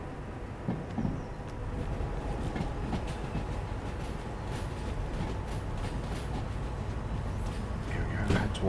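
A long freight train runs in the Derail Valley railway game, giving a steady rumbling roll with faint clicking wheels and occasional metallic squeals, continuous and fairly quiet throughout.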